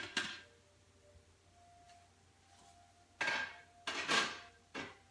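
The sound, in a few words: handling slow cooker of cooking pinto beans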